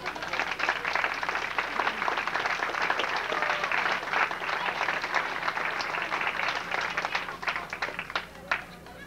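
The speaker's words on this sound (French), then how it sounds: "Un petit peu d'applaudissements, s'il vous plaît." Audience clapping at a gathering where a sculpture is presented: a dense, steady round of applause that holds at an even level for about nine seconds, with crowd murmur mixed in.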